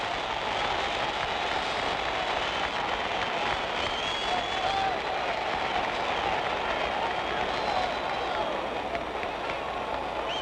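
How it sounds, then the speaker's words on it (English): A large boxing arena crowd at a Floyd Patterson vs George Chuvalo fight keeps up a dense, steady roar of applause and cheering, continuous and fairly loud throughout. "Crowd is starting to applaud."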